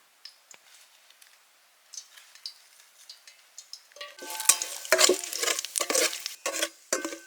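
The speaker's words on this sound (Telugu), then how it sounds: "బగారా సామాన్ అయితే నూనెలో వేయించుకుందాం మనం" Whole biryani spices dropped into hot oil for egg biryani in village-style outdoor cooking, starting with faint scattered ticks and then bursting into close, crackling sizzles and stirring clatter.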